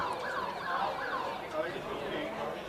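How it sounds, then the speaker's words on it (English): A full-time siren at a rugby league match wails, rising and falling in the distance, sounding faint under a murmuring crowd. "the full-time siren goes in the background"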